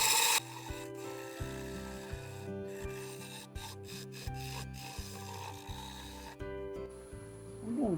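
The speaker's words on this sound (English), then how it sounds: "if you angle this down and use the tip of the tool, put the handle down more, that's called a shear scrape" Lathe tool shear-scraping a spinning cedar vase, a steady close rubbing rasp over the lathe's hum that swells and eases as the tip is angled down, with brief pauses and a rising whine near the end.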